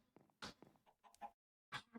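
Chickens cluck in short bursts, two or three birds trading clucks with a brief silent gap before a final loud cluck, close to the mic with no talking.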